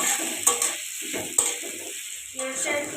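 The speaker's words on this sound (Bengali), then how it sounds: "এবার এটাকে আমি ভালো করে কষিয়ে নেব।" Chopped onions stir-fried in a pan for spicy mutton kosha give a steady low sizzle, broken by a few sharp spatula clinks and scrapes against the pan.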